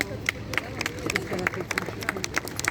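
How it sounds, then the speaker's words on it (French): A crowd applauds a firefighter road-rescue team at a departmental competition drill, with sharp, busy clapping spread across a large group and steady crowd murmur underneath. "Je pense qu'on peut déjà les applaudir."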